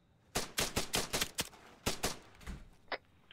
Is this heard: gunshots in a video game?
yes